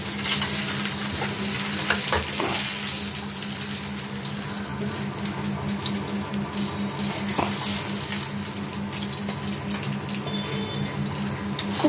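Rohu fish wrapped in bottle gourd leaves frying in a pan gives off a steady close sizzle with faint spatters, with a few scraping stirs in the first seconds and no voices.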